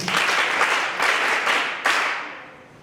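Audience clapping at a Limpopo provincial RCL awards gala dinner, a dense wash of hands that surges in a few waves, then fades toward the end, with no talk over it.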